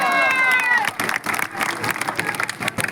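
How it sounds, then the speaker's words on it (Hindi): An audience at a political election rally breaks into applause and cheering after an introduction, with a burst of clapping and crowd noise that fades into scattered claps, under a voice and singing at the start. "एक बार जोरदार तालियां।"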